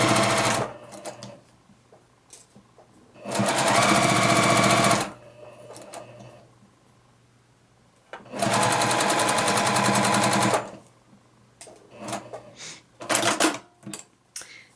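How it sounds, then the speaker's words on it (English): A sewing machine stitches pieced quilt blocks for a beginner flower block, running in two steady bursts of rapid, loud needle chatter of about two seconds each, with quieter handling clicks and pauses in between. "So now I'm going to just stitch these together."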